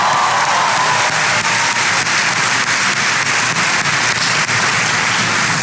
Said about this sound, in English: Please give Cynthia a big round of applause for the great introduction.